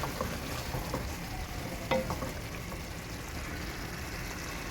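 Macaroni with ketchup, capsicum and spice mix frying in a pan, a continuous close sizzle with occasional scrapes and clinks of stirring.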